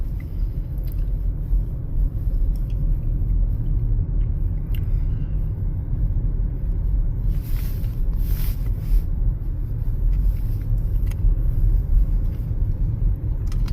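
A car rolls through the small mountain town of Manitou Springs, Colorado, heading toward Pikes Peak, its steady low engine and road rumble filling the cabin continuously with no talk.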